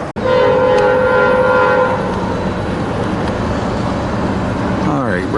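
A freight train of tank cars rolls past on the Harrisburg line at Wyomissing, Pennsylvania, with a loud, close horn blast held for about two seconds, then a steady heavy rumble of cars going by.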